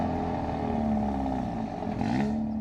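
A car fitted with an aftermarket downpipe exhaust idles and revs steadily, its engine drone loud and close for a couple of seconds with a slight swell near the end, no talking over it.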